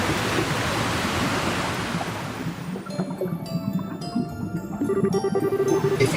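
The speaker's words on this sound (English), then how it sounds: "It's really boiling in here." Boiling hot spring water at the Hot Springs Fountainhead in the Trails in the Sky SC video game, a loud rushing, bubbling wash that fades midway as soft tonal game music rises over it.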